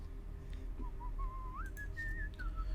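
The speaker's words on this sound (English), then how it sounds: "We heard a man whistling somewhere alongside the road." A man whistling beside the road in a video game, a short rising and wavering tune of clear whistled notes over a low steady background hum.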